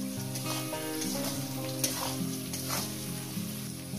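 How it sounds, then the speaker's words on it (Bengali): Onions frying in a pan for a potato and chicken curry, a dense steady sizzle close up, with occasional stirring scrapes and a musical background underneath. "পেঁয়াজটাকে সুন্দর করে লাল লাল করে ভেজে নিচ্ছে আমার বন্ধু"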